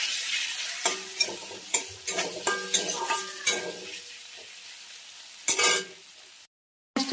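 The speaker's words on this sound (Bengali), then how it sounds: "এখন হচ্ছে পেঁয়াজ তেলের মধ্যে দিয়ে দেব" Onion being added to hot oil in a pan while cooking a fish curry, with a series of sharp stirring knocks and scrapes over a soft sizzle. The sizzle fades toward the end, followed by a brief silence.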